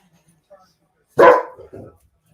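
Dogs give one loud, close bark followed by a softer short bark and a muffled yip, all within a moment, otherwise quiet.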